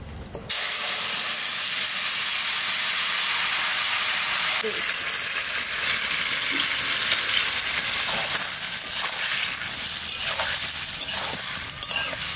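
Bay leaf and vegetables with egg frying in a pan, a loud sudden burst of hissing sizzle that holds steady, with scattered stirring scrapes and clicks throughout.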